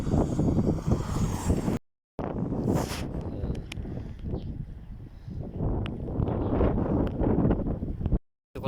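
Steady broadband wind buffeting a microphone outdoors at a cold, high place in Turkey, loud and continuous with gusty swells, with two brief drops to near silence.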